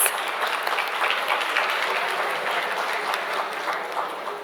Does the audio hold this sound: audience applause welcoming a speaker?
yes